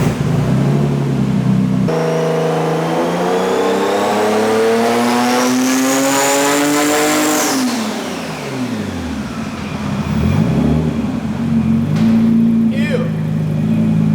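An 800HP Nissan R33 GT-R Le Mans Edition engine on boost revs hard, climbing steadily to a loud high-pitched peak before dropping off, then settling back into a rough idle with another short blip near the end.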